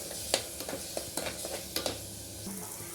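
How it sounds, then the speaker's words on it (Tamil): Ground coriander, turmeric and other spices being stirred and sautéed in oil for beef gravy. A soft sizzle runs under a string of regular spoon scrapes and taps against the pan. "இதையும் போட்டு நல்லா மிக்ஸ் பண்ணிக்கலாம்."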